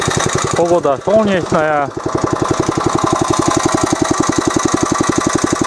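A walk-behind tractor (motoblock) engine runs while being driven, giving a loud, close, steady rapid chugging knock throughout. Someone talks briefly over it at the start.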